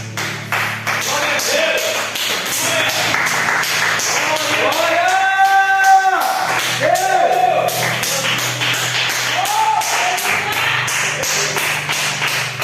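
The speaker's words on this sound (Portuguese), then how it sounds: "Se coloca de pé, aplaudindo o Senhor" A church congregation stands and claps steadily in praise, a dense, continuous patter of many hands under voices and a sustained tone, carrying on loudly throughout without a break.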